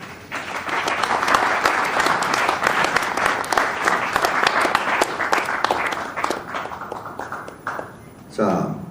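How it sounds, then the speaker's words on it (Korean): Sustained applause from an audience welcoming a professor at a press conference: dense, steady clapping that thins toward the end, then a brief louder burst. "홍순선 교수님을 큰 박수로 맞이해 주십시오."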